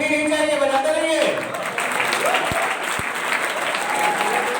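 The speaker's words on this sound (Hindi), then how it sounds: "और तालियां रुकनी नहीं चाहिए," An audience at a college freshers' fest applauding steadily, a loud continuous wash of clapping, with a voice speaking over it at the start.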